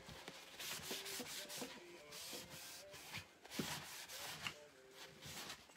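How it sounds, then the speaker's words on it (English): A paper towel rubs excess paint off a scrap wood piece in repeated soft, scratchy back-and-forth strokes, close and quiet, with no voices. "I just wipe the excess paint off"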